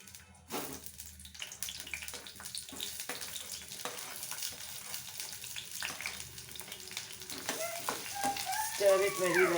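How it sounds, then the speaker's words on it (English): Chopped onions dropped into five to six tablespoons of hot oil for a mutton keema, bursting into a steady, loud, hissing sizzle right after a brief quiet start, continuing unbroken and swelling slightly toward the end. "when the oil is hot, I will add the chopped onions which I showed you"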